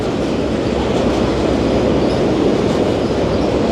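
A heavy freight train rumbles past close by in Gaoyao, China, a loud continuous rattling roar of wagons with faint clanking, no voices.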